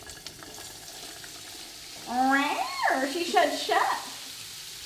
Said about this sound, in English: take one of the carrots and see if it sizzles